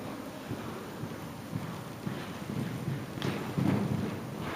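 Horse hooves canter across an arena during a riding lesson, a soft rhythmic thudding under steady wind and background noise, with the beats growing slightly louder toward the end.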